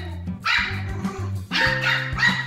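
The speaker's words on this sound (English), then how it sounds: "These dogs are quick to sound the alarm at every suspicious encounter." Several sharp alarm barks from a small fluffy Pomeranian, a Spitz-type dog, arrive in quick bursts over a low steady tone, loud and close.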